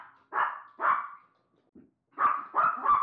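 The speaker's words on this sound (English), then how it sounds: "What in the world is that dog barking about?" A dog in a household barks five times at close range, in two clusters with a soft yip between them and no talk.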